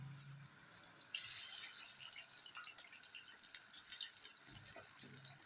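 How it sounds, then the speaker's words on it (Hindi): Butterfly chicken pieces sizzle and crackle in hot cooking oil over medium heat, a steady bright frying hiss that starts abruptly and continues close by with small pops throughout. "अब इनको हम करेंगे फ्राई।"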